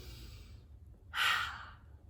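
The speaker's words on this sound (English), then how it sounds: "Take a nice big deep breath." A single deep breath, faint room quiet and then one soft breathy exhale or sigh lasting about half a second, close and alone without talk.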